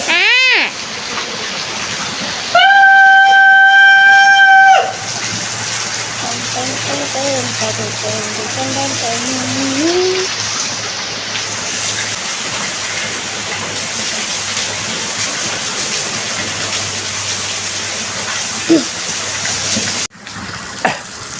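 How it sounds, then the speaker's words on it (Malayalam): Heavy rain with wind pours down outdoors in Palakkad as a loud, unbroken hiss throughout, with a few electronic tones near the start and a brief faint voice in the middle. "നല്ല നല്ല ഹെവി മഴയായിരുന്നു"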